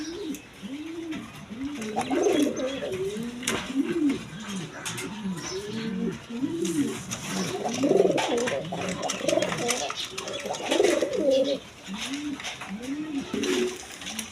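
A red Lahori male pigeon coos in repeated throaty rolls, close and fairly loud, with other birds chirping faintly around it.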